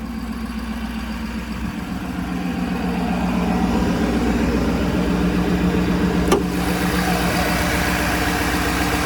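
A 2025 Ford F-250 XLT Premium's 6.7 liter turbo diesel idles steadily nearby with a deep rumble, then grows a bit louder about two seconds in, and nobody speaks.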